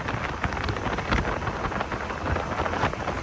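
Wind blowing outdoors in cool weather on an off-road trail near a bridge, roaring into the microphone with rough, buffeting gusts that rise and fall throughout, with no voices.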